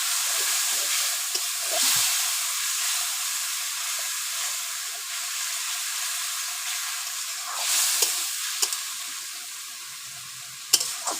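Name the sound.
water poured into frying spice paste for fish curry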